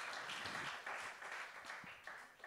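A church congregation claps together in praise of God at a Hope Seminar service, a fairly faint, steady patter of many hands that swells and dips slightly over a couple of seconds, with no speech on top.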